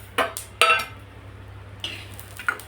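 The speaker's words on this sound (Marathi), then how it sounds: "यामध्ये साधारण 1 वाटी एवढं हे स्वच्छ निवडलेलं काळं कराळ असते ते टाकायचं" Black niger seeds tipped into a pan of roasted chillies make a few sharp metallic clinks and scraping rattles, close and separate, with a faint low hum underneath.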